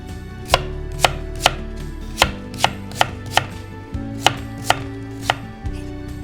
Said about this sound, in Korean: 한 3mm 정도, 2-3mm 정도 두께로 이렇게 납작납작하게 썰어주세요.